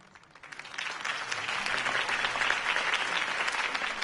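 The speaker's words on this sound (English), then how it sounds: "If only Mr. Wayne, my campaign's largest backer, could have heard that applause" Applause from an in-game crowd greeting Harvey Dent's campaign speech in The Batman Telltale game, building quickly from a soft start into steady, dense clapping that continues throughout.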